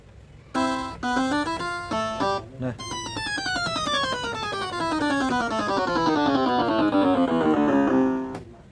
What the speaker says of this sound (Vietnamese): Còn đây là tiếng harp này.